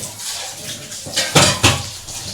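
Chicken pakora batter frying in a pan, with clinks and scrapes of a metal utensil against the cookware and soft background sizzle, two louder knocks standing out.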